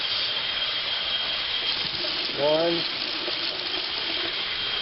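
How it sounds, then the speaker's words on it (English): Tap water runs steadily over sprouting seeds being rinsed at home, a continuous close hiss and splash that lasts throughout, with a brief spoken word partway through. "So I'm just going to turn on the water and give them a rinse."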